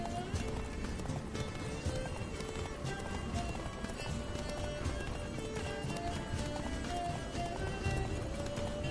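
A horse gallops steadily in The Witcher 3 with continuous rapid hoofbeats, set against a dense background of game music and ambience.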